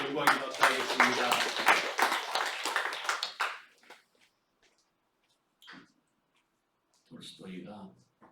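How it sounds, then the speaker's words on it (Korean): A church congregation claps together in praise, a brief burst of dense hand claps lasting a few seconds before quiet, followed by faint scattered noises. "우리 하나님께 영광이 박수하겠습니다."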